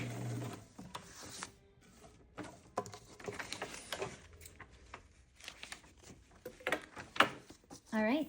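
A home sewing machine runs a short back stitch to finish a seam, with faint intermittent mechanical whirring and clicking of the needle and feed, quiet and irregular amid small handling noises.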